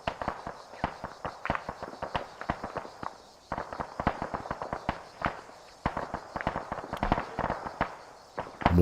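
Sustained gunfire from fighting in Arma 3 with the Antistasi mod on Altis, a dense run of sharp cracking shots in rapid bursts, some near and some farther off, continuing steadily with brief lulls.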